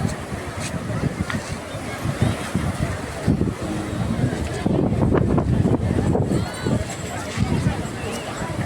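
A boat ride on the Indian Ocean off Kanyakumari, with steady wind buffeting the microphone and washing water over a low engine rumble, under people talking throughout.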